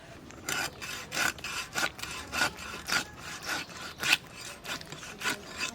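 Raw hilsa fish from the Padma river being cut by hand gives a rhythmic series of rasping, scraping strokes, about a dozen in quick succession, moderately close and with no talk over them.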